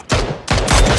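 Loud, close gunfire in a competitive team video game: a single sharp blast followed by a rapid burst of heavy shots, with no talking.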